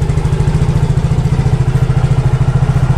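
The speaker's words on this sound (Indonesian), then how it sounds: "ini kondisi motor setelah diservis dan melakukan penyetelan klep ya" Yamaha Mio GT motorcycle engine idling close up after a tune-up with valve adjustment, a loud, steady, rapid low chugging pulse with even rhythm and no talk.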